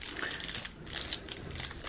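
Cellophane being wrapped around a small folded paper note, a close, continuous crinkling and rustling that rises and falls for a couple of seconds without talk.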